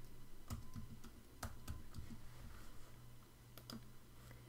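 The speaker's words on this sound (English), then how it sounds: "And so I'm going to just type my name." Typing on a computer keyboard, a few quiet, close clicks spaced irregularly over a low steady background hum.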